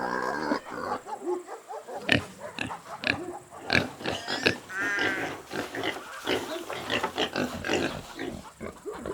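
A pig grunts and snorts in a farm setting, a series of close, irregular grunts with short pauses between them, clearly heard without any talking.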